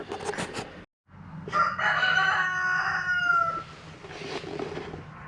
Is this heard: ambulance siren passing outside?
no